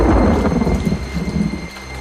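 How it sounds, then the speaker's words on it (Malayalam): Heavy rain pours steadily in a cartoon storm scene, with a deep rumble of thunder rolling underneath, loud and close throughout the short stretch. "പിന്നെയും മഴ."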